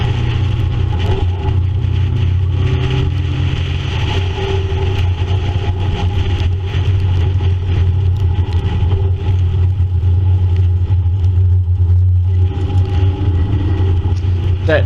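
Racing cars circuit Sandown racetrack in Victoria, led by a fast red convertible, a Triumph Spitfire among them, with a steady low engine drone throughout and a voice speaking over it.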